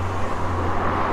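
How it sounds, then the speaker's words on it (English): Steady road traffic rumbling past a lay-by on the A470, a continuous low drone of passing vehicles with no voices. "I do apologise for any traffic noise throughout the video"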